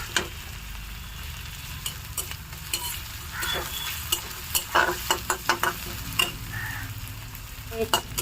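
Onion paste sizzles in a pan for a chicken dish while a spatula stirs and scrapes it in repeated, uneven strokes, close by over a constant low frying hiss.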